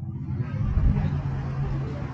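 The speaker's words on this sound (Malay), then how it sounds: "Tu bunyi motor punya apa?" Motorcycle engine droning as it passes outside a surau during a talk, a steady low rumble that swells slightly midway, moderately loud and continuous, with no clear talk over it.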